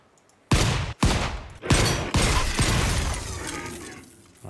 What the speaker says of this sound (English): Ooh, he had like a shotgun or something.